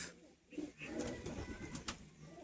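Pigeons of a high-flying breed cooing softly at close range, a low murmuring coo rising and falling over faint background noise, with a person's voice briefly audible.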